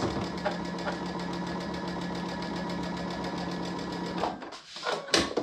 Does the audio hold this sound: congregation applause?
no